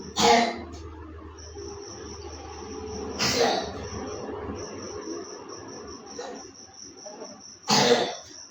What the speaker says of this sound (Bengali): জ্বর ভালো হয়েছে, আবার কাশতেছে না?